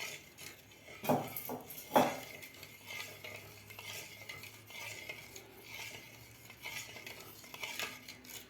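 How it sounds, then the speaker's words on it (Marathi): A spoon stirs jowar flour ambil in a pot with green chilli and asafoetida, scraping and clinking steadily against the metal, with two sharper knocks near the start, close up and with no talking. "आता एकसारखं आपल्याला याला ढवळत राहायचं आहे"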